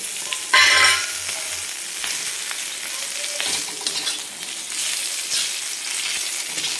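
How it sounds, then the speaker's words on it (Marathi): Chopped onion and grated coconut sizzle and crackle in a little oil while being stirred for a spicy black mutton curry, with a loud burst of sizzling and clatter near the start, then a steady close frying hiss. "आपला हा कांदा आणि खोबरं जे आहे ते आपण छान परतून घेऊ."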